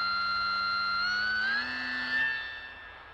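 A T-Motor AT2306 KV2300 brushless motor spins a propeller with a steady high-pitched whine that rises briefly in pitch, then eases off and fades slightly as the revs drop, with no talking.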